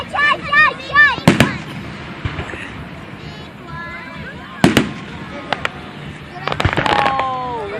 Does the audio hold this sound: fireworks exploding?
yes